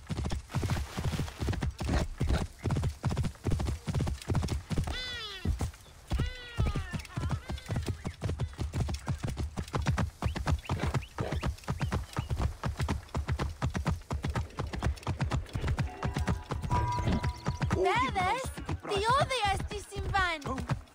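Steady clip-clop of horse hooves trotting close by in Assassin's Creed: Origins, with a horse neighing a few times and voices talking over it.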